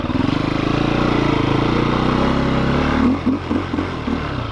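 A 2008 KTM EXC-F 250cc four-stroke dirt bike engine with its stock exhaust thumps and revs loudly up close, then drops back to a choppy, uneven idle.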